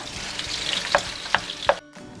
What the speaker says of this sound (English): I'm just browning up the ground sausage, pork sausage, and I have some bacon going